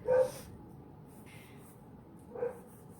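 A dog barks twice indoors, one sharp bark near the start and another a couple of seconds later, both fairly faint and distant against a quiet room background.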